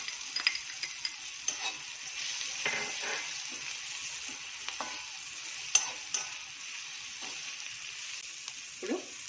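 Sliced capsicum and carrot sizzle in hot oil in a pan for batani chaat, a steady close frying hiss broken by intermittent scraping stirs and clicks of the spatula.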